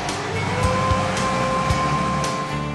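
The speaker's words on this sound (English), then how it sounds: "The Digibinder is the most sophisticated tabletop perfect binder on the market." A Sterling Digibinder automatic tabletop perfect binder runs with a steady, dense mechanical whir and faint rhythmic knocks, loud and continuous throughout.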